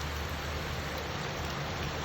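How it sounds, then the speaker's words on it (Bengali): Heavy rain pours steadily on a flooded street, a dense continuous hiss of drops on surfaces with no pauses and no voices. "কিরকম বৃষ্টি পড়তেছে"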